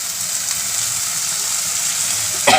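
Spice masala frying in a small amount of oil for Barbati (yardlong bean) masala, a steady close sizzle that runs unbroken, with a brief louder stir or clatter near the end.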